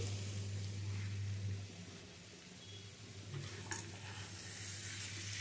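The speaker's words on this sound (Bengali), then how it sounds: "মটরশুঁটিটা দিয়েও নেড়ে ছেড়ে নিচ্ছি।" Kohlrabi curry with added peas stirred in a pan, giving a soft steady simmering sizzle with faint scraping of the spoon and a low hum underneath.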